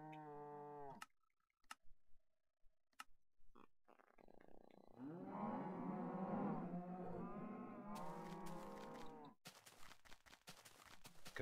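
Cows moo in the Minecraft video game, a drawn-out, low lowing call rising and falling under a few sharp thuds and clicks, ending with bursts of noisy game sounds.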